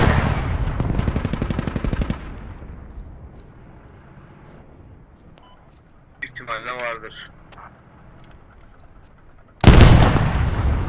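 Tank cannon fire in the military shooter game Squad: a loud, dense burst of blasts opens the clip, then a single sharp, heavy boom lands near the end, with a voice talking in between.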